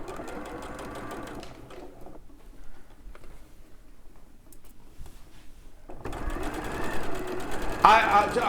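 A sewing machine stitches quilt pieces for a Tim Holtz journal quilt, its motor whirring steadily at the start, pausing quietly midway, then running again louder toward the end, with talk alongside.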